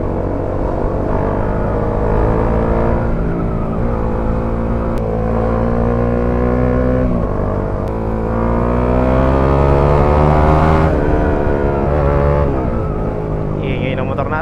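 A Bajaj Dominar 400 single-cylinder motorcycle engine climbing uphill, droning steadily with rising and falling pitch as the rider works the throttle, with wind rush and occasional voices mixed in.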